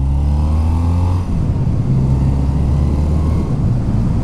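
A BMW R80 flat-twin motorcycle engine holds near 2000 rpm as the throttle is opened again, giving a close, steady, loud low rumble with no talking.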